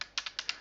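A handful of quick, quiet clicks from a computer keyboard sound in an uneven rhythm over less than a second, close and alone.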